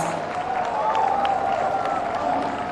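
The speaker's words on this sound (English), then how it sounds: "let's give them a big round of applause." Sustained applause from a large festival crowd at the Hornbill Festival, a dense wash of clapping that stays steady and loud throughout.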